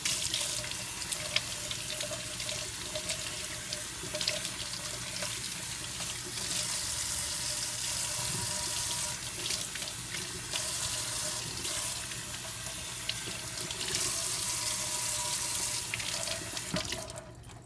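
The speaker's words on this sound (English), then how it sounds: "But since I'm in the kitchen, I rinse it out with clean water here." Kitchen tap water running steadily into a sink as a gutted trout is rinsed under it, a continuous close splashing gush with small shifts as the fish moves through the stream, no voices.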